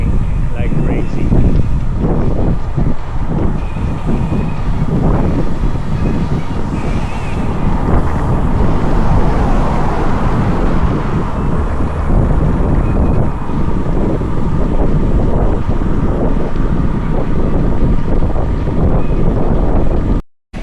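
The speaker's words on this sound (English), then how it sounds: "Look on my left here, you can see the wind blowing like crazy." Strong crosswind buffets the microphone of a bicycle ridden on the London Edinburgh London 2025 long-distance ride, a continuous loud low roar and rumble of wind noise lasting throughout.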